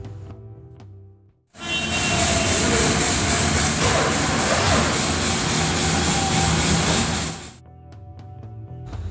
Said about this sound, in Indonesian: Kemudian kita coba sekali lagi untuk start engine.